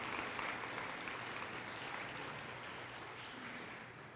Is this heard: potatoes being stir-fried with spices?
no